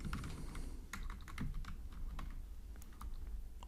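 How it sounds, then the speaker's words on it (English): Quiet, irregular keystrokes tap on a computer keyboard in rapid clusters over a low background hum. "And here I will type"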